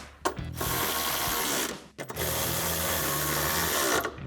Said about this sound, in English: grab our ratchet and our 13mm socket and tighten those 2 down